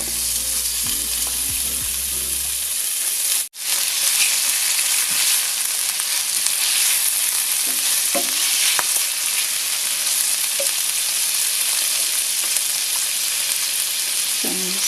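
Pork fries in a pan with onion, giving a loud, steady, close sizzle that runs throughout with no talking; a brief thump at the start precedes the continuous frying.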